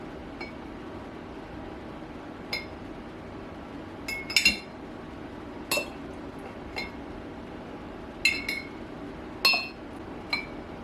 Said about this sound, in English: I just take a little spoon and kind of spoon out.